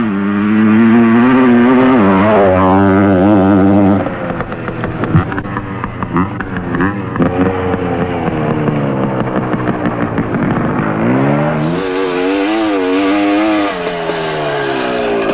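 A motorcycle ridden hard through a curve, its engine loud and close, holding a steady roar with rising and falling revving pitch for the full stretch; no talking.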